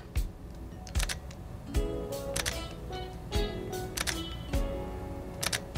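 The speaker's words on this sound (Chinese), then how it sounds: "大家可以听听看，这是 XT4 的快门声。" Fujifilm X-T4 mirrorless camera shutter fires repeatedly, about a dozen soft, short clicks in irregular pairs and singles, close up and fairly quiet over light room noise with no talking.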